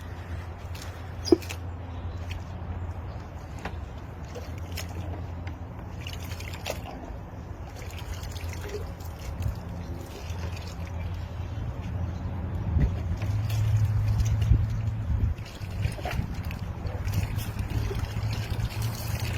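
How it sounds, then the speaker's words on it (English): A nest box rinsed out with clean water, a steady trickling and sloshing wash running throughout with occasional knocks, swelling louder near the end. "I'm going to give it a nice rinse out before I dunk it in my solution"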